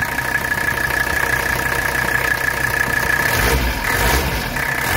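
A 1984 Mercedes 300CD engine runs steadily close by in the engine compartment, then the throttle is blipped once for a short rise in revs before it settles back to idle.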